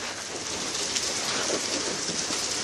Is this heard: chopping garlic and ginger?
no